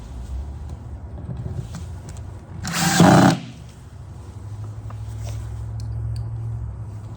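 A power drill drives Kreg jig pocket screws into wood while building a ceiling for a Ram ProMaster camper van, one loud burst of about half a second standing out above quiet room noise.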